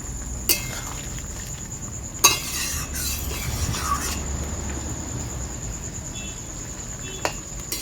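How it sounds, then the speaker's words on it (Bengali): Pumpkin curry bubbles in a pan as a spoon stirs it, with a few scattered scraping knocks over a low steady simmer, close and without talk. "সব কিছু কিন্তু ফুটে উঠেছে, এগুলো একটু নেড়ে চেড়ে দেবো"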